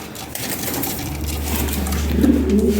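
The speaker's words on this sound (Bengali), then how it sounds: "এ খুব ফার্স্ট ক্লাস কবুতর" Lahori Sirazi pigeons in a loft give a low, steady cooing that builds near the end over a faint background shuffle of birds.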